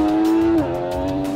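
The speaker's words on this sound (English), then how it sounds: "You get that thing wailing on the pipe and the engine sounds like it's gonna explode." An MV Agusta middleweight sportbike at high revs, a loud close sustained exhaust wail that holds a steady pitch then drops abruptly as the engine shifts, continuing at a lower tone.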